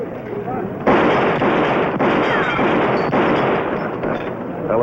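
Gunshots in a western TV episode about Billy the Kid and Pat Garrett: loud, dense bursts of gunfire with a lingering, muffled roar on an old, band-limited soundtrack, punctuated by a few stronger hits.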